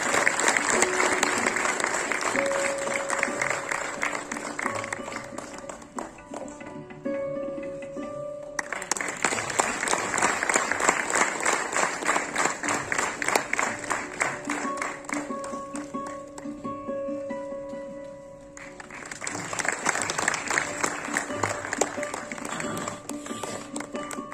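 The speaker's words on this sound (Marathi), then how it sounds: "अण्णांसाठी सुद्धा एकदा जोरदार टाळ्या झाल्या पाहिजे" Loud, sustained applause from a large audience at a lifetime achievement award ceremony for actor Mohan Joshi, honouring the memory of Natvarya Bhalchandra Pendharkar, rising in three long waves with brief dips between them.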